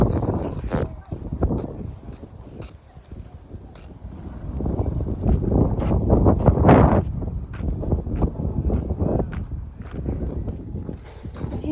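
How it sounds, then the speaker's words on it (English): Strong wind buffets the microphone in loud, uneven gusts, with a voice talking in the background. "It is so windy."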